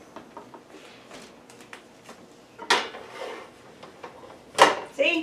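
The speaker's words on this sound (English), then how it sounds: "We're going to take them out of the oven" Cookies being taken out of the oven: soft kitchen rustling and faint clinks, then two loud metallic clatters of a baking sheet, followed by a smaller clank near the end.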